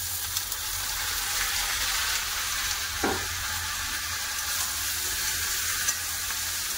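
Washed mixed vegetables fried together with onions already browned red in a pan make a steady, even sizzle close by, broken by one brief stirring scrape, with no voices.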